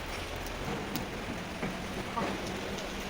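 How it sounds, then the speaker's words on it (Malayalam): Steady rain hisses across the whole clip, with scattered drops and soft taps standing out now and then. "മഴ കൂടി പോയി"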